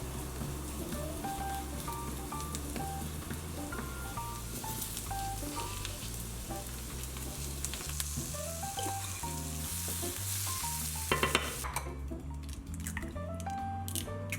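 Vegetables with halved baby tomatoes frying in a pan, a steady hissing sizzle running beneath background music with a plucked melody, a brief clatter near the end.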